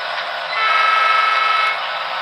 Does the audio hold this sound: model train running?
yes